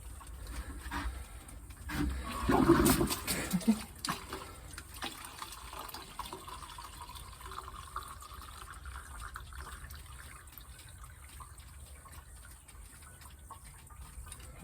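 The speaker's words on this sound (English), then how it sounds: "Pour the water in there and it shoots the water out." Water is poured into a plumbing fixture and shoots back out, with a brief loud gush early on, then a faint, steady hissing trickle over quiet background noise.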